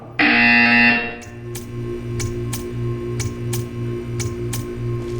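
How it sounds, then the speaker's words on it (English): A loud harsh buzzer in Portal 2 blares for about a second, then a faint steady ticking pulses along with a low hum. "You will hear a buzzer."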